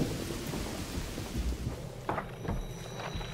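Rain falls steadily in the video game Mind Over Magic while rumbling thunder rolls beneath it, with a few brighter crackling bursts near the end over a constant wet hiss.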